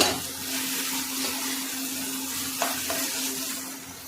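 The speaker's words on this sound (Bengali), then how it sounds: "এবার দিয়ে দেবো অল্প একটু রসুন বাটা ভালো করে একটু মিশিয়ে নেব" Garlic paste stirred into vegetables frying without water for a veg roll, giving a continuous close sizzle with a low steady hum beneath and one brief scrape of the spoon near the end.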